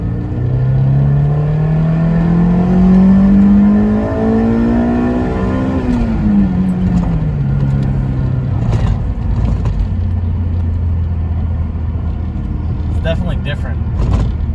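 A JDM Honda S2000 AP1 with an F20C engine, fitted with an AP2 transmission, revs high while driving, its pitch climbing then dropping at a shift and settling into a steady drone. A loud cabin sound with people talking over it.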